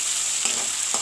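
Green chillies and tomatoes are mixed in a frying pan, with a constant hiss of hot oil and two short scraping stirs of the utensil.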